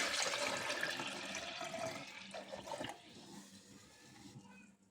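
A litre of filtered water pours steadily with a broad rushing splash, loud at first and gradually thinning out toward a trickle.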